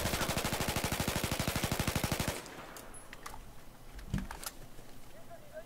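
A weapon in Battlefield 4 fires a rapid, even burst of automatic shots for about two seconds, loud and close, then cuts off into quieter game ambience with faint clicks and a soft thump.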